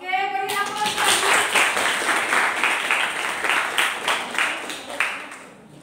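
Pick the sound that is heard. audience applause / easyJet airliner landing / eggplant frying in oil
audience applause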